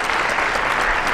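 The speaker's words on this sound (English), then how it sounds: "I think we need to give a round of applause to all of the workshop presenters from this morning" Audience applause for workshop presenters at a healthy-families summit, a dense, loud, continuous clapping throughout the short moment.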